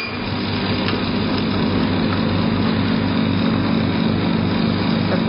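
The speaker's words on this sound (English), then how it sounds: "Here is the vacuum." The vacuum pump of a 3D sublimation heat transfer machine for mugs and glasses hums steadily nearby, a loud, constant motorized drone with a low pulsing throb and no talk.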